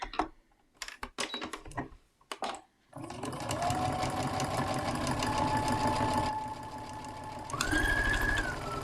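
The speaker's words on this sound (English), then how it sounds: "we can sew that in the same way with a standard 1/4 inch seam" A sewing machine stitches a quarter-inch seam on a nine-patch quilt block: a few short bursts of clicks first, then a long continuous whirring run that steps up in pitch near the end, close and loud.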